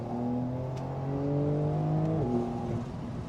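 A 2022 Porsche 911 Carrera engine pulls hard through a corner, a loud, close, rising drone with a brief gear-change dip before climbing again.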